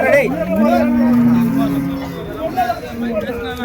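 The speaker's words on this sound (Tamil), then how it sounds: "ஒரு ஜோடி எருதுங்க" A pair of bulls lowing loudly at a village cattle market in Krishnagiri district, long drawn-out moos close by, with crowd babble in the background.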